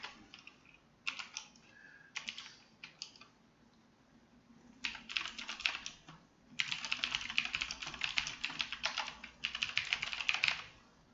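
Code is typed on a computer keyboard in stop-start bursts, some short taps and some long, rapid runs of keystrokes, close-miked and moderately quiet with pauses between.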